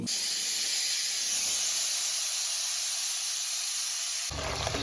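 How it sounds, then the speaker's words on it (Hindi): Steady, loud broadband sizzle of cumin and onion frying in hot oil for Indian tempering, continuous and close, cutting off abruptly near the end. "तो देखिए दोस्तों तड़का लग चुका है।"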